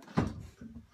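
Metal latch on the door of a heavy-gauge sheet-metal military-issue tent stove clicks once sharply, close by, followed by a softer rattle of the latch settling.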